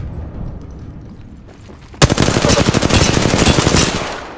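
Automatic gunfire in the video game Apex Legends erupts suddenly after two seconds of low rumbling ambience, a loud rapid burst of closely spaced shots continuing for over two seconds before tapering off.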